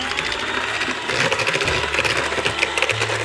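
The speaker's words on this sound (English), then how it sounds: "we're going to mix the sugar and the butter together. So we're just going to mix this until it's nice and creamy." An electric mixer whirs loudly and continuously as it creams sugar and butter for a chocolate pudding, with the motor pitch shifting slightly as the batter thickens.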